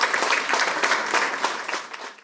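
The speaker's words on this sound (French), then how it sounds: "Je vous demande d'applaudir Roge Melika Pompilus" An audience applauds a graduate at a diploma ceremony held by a computer technical training centre, a dense, steady wash of many hands clapping close by for about two seconds before it cuts off.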